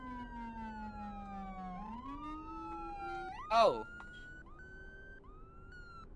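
A police rumbler siren in the game FSRP sweeps low and steady, then rises in pitch before a brief loud burst, followed by a quieter electronic tone, with a voice exclaiming once.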